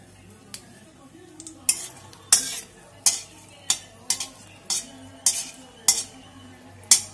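Two dried red chillies fry in hot mustard oil in a wok, a faint sizzle under a series of regular, sharp metal spatula clanks against the pan, about one every half second, close and without speech.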